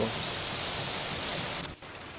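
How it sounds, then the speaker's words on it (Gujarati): Constant heavy hiss of rain pouring down, dense and unbroken, with a brief dip near the end. "વરસાદ બહુ આવે છે"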